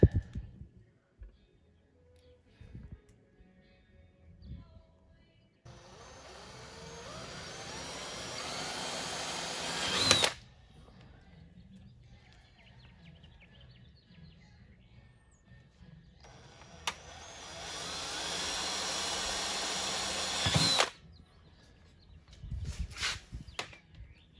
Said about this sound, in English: Now we'll drill it.